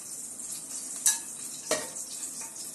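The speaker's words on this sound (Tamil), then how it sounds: "இது நல்லா கொஞ்சம் நேரம் அந்த எண்ணெயில் வதங்கட்டும்" Whole spices such as cinnamon, stone flower, cloves and poppy seeds frying in hot oil for a vegetable biryani, a steady soft sizzle with two sharp metallic clinks of a utensil against the pan.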